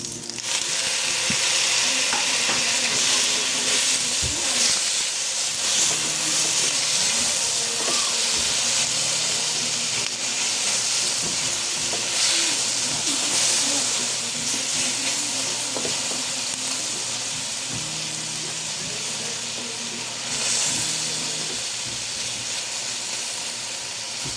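Tomatoes fry in a hot pan, a loud, steady sizzling hiss with steam that runs unbroken throughout, with faint stirring and pan knocks underneath.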